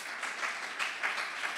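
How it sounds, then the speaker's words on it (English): Audience applause at a startup expo presentation in Munich, a steady wash of many hands clapping close and fairly loud for the full length, with no talking over it. "Big round of applause for the business unit perspective."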